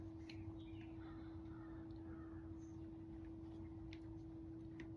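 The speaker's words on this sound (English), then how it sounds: "Just listen to the birds" Birds calling in the distance at dawn, about twenty minutes before sunrise, over a steady low hum, a few scattered caws and chirps, faint and sparse, with no one speaking.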